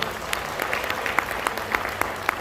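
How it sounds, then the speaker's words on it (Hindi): Applause from an audience at a network marketing event, a steady bed of clapping with a few sharper individual claps popping out near the listener, moderately loud throughout. "हमारे gate MD, youngest MD mister Yashveer जी के लिए जोरदार ताली से सम्मान करें।"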